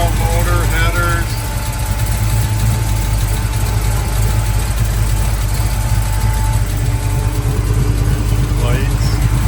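A 1980 Chevrolet Blazer with a stout, slightly cammy V8 motor, headers, competition rocker arms and MSD ignition idles steadily and loudly up close, with a lumpy low rumble throughout and faint voices underneath.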